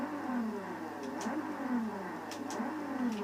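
A car engine in the racing game Forza Horizon 2 revs up and down in repeated rising and falling sweeps, a moderately loud, continuous engine tone with no one talking over it.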